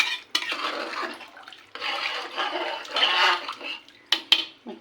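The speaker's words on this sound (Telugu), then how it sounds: "నీళ్ళు వేసి ఒక్కసారి మొత్తం మిక్స్ చేసుకుందామండి." Rice and water for tomato rice are stirred in a pot, giving close swishing and sloshing in uneven bursts with sharp clinks of the spoon against the metal pot.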